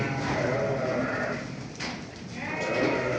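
A flock of sheep with lambs bleat loudly and repeatedly, several animals calling over one another nearby, with a low rumble of farmyard noise underneath.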